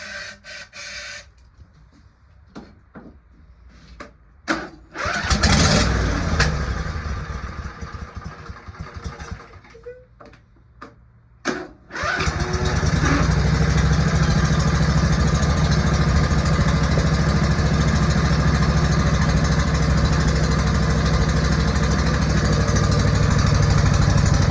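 A Briggs & Stratton Intek 21HP engine, run without choke after carburetor work, cranks and sputters with a few false catches, then fires and settles into a loud, steady, close running drone for the remaining half of the clip.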